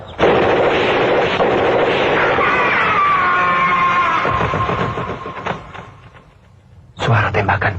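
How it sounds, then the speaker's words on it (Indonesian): Gunfire in a forest scene of a 1985 film: a loud, sustained burst of shots and blasts that fades after about five seconds, then a fresh sharp burst near the end, with voices mixed in. "Suara tembakan."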